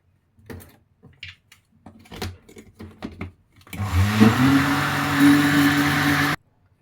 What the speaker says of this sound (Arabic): كده انا ضربت كل المكونات وكل الحاجات كده في الخلاط زي ما انتوا شايفين